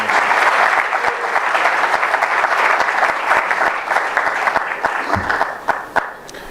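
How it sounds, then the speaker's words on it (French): Sustained, dense applause fills a church gathering of the Église du Réveil du Congo as a professor is welcomed to speak, steady and close before thinning out near the end. "il a aussi 30 minutes sous vos acclamations"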